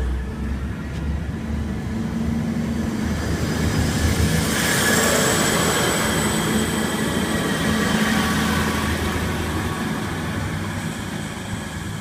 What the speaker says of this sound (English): Hunter set 2 is now departing for a Hamilton service.